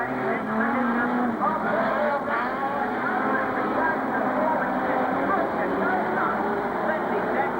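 Modified sedan race cars roar around Carrick Speedway in a continuous, steady engine drone from the track, with a commentator talking over the racing throughout.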